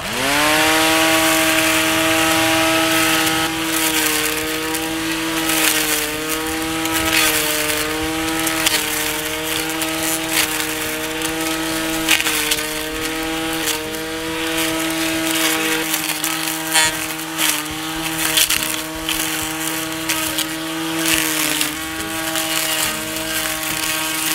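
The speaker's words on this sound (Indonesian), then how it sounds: "saya akan motong rumput yang cenderung punya batang lebih keras dari yang tadi saya pakai mata pisau ini" A brush cutter fitted with a blade slices through hard-stemmed grass, its two-stroke engine droning loud and steady throughout with a continuous high whine, shifting slightly in pitch under load.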